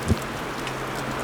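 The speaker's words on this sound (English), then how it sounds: "God damn this rain." Steady rain falls at night in Ballyboley Forest, a constant close hiss of drops with a single faint thump near the start and no voices.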